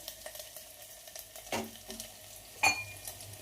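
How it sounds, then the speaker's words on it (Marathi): Onion sautés in a pan for khichdi with a faint, quiet sizzle, broken by soft stirring scrapes and one sharp metallic clink near the end, and nobody talking. "कांदा परतला इकडं"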